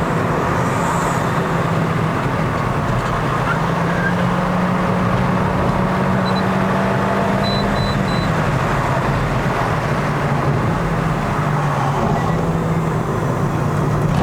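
A 2017 Toyota Vios Sports Edition with a CVT climbs a wet uphill road toward Genting, Malaysia, its engine droning steadily and shifting in pitch as the gearbox downshifts, with continuous road and tyre noise throughout and no talking.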